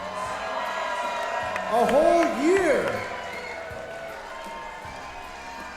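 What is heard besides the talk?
wrestling audience applause and cheering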